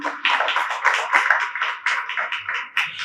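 Applause from a conference audience in Lahore welcoming a guest, a steady patter of many hands clapping at close range for a few seconds, with no talk over it.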